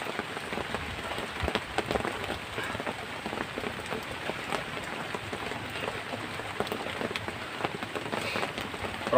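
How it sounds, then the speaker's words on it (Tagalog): Steady downpour of heavy rain, a constant roaring patter of drops hitting surfaces, close and unbroken, with no one speaking. "Napakalakas ng ulan"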